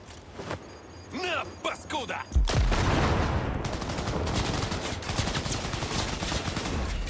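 Rapid gunfire with explosive ammo erupts in Cyberpunk 2077 after a short stretch of engine and ambient noise, becoming a loud, dense, sustained barrage of shots and blasts that runs to the end.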